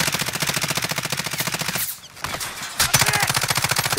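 Automatic gunfire in Call of Duty: Modern Warfare, loud rapid bursts that rattle on steadily, break off briefly in the middle, then resume at the same fierce pace.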